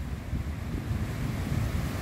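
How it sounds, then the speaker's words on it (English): Heavy ocean surf crashes onto a beach in strong wind, a continuous low roaring wash with wind buffeting the microphone throughout, steady and close with no voices. "The waves are still crashing."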